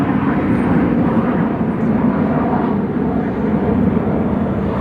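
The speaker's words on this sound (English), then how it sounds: "That what you just heard was an airplane landing," Airplane taking off near Palm Springs Airport, a loud, steady broadband engine roar filling the whole stretch, close and continuous with no voices over it.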